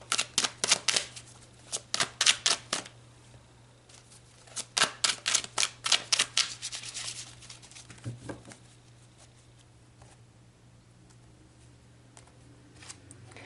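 Tarot cards being shuffled close up, several quick riffling bursts of crisp papery flutters in the first seven seconds, then fading to softer, sparse handling against a quiet background.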